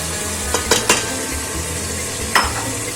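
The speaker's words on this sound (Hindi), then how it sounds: "अब ये हम इसमें डालेंगे ग्राइंड हुए हुए टमाटर" Ground tomatoes added to beef frying in a pan for gobhi gosht and stirred, a steady sizzle broken by a few sharp scrapes and clinks of the spoon against the pot.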